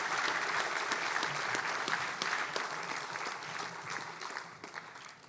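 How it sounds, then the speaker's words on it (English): Sustained applause from an audience at a football award event, with steady, dense clapping that continues throughout and eases slightly toward the end. "Let's give them a round of applause."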